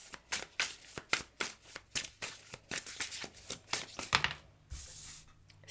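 Tarot cards are shuffled close up in quick repeated rhythmic riffles, about two per second, crisp papery bursts that continue for several seconds before a softer rustle and tap at the end.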